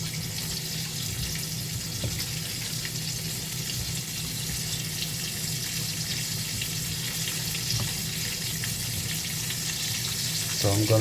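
Chicken pieces, four at a time, frying in oil in a pot on a home stove for pineapple fried chicken, giving a steady close sizzle with faint clinks and a brief rise near the end.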